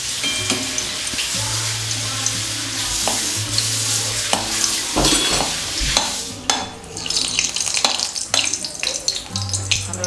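A piece of asafoetida frying in hot oil in a pan for pirandai (veldt grape) chutney, a close busy sizzle with scraping and clatter and a low steady hum underneath.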